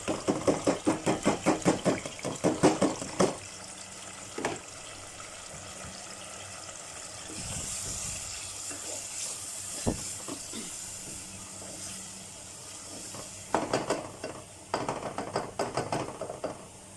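Steamed vegetables, tomatoes, onions and scotch bonnet tipped into a pot for Nigerian egusi soup, with rattling and clattering bursts at the start and end around a quieter hissing stretch.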